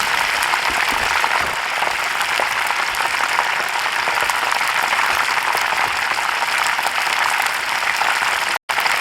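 Dense, continuous crackling and sizzling of fish pieces deep frying in hot oil, steady and close throughout, with a brief dropout near the end.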